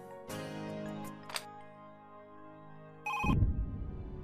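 A phone chimes with a sustained ringing tone for a few seconds, then a louder electronic ring kicks in abruptly near the end, indoors and quiet otherwise.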